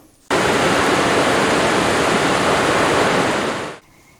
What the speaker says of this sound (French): on va entendre ce bruit de chasse d'eau comme ça